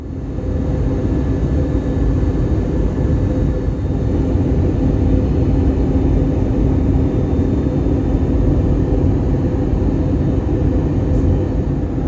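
A steady, loud roar of engine and air noise fills a Frontier Airlines airplane cabin during the descent into Fort Lauderdale. The drone stays constant throughout, with no voices.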